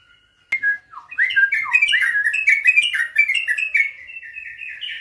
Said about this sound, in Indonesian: Biasanya dia kalau dengar burung jantan bunyi, dia nyaut.